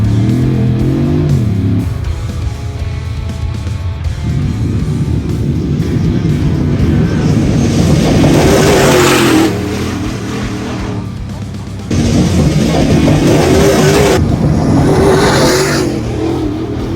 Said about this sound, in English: Just look at the truck going through there at slow speed.